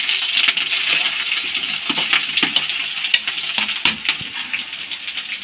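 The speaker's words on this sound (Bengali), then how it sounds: "মূলো শাকের জন্য বেগুনটা ভেজে নেব" Eggplant fries in a pan of hot oil, a loud close sizzle with clinks and scraping as it is stirred.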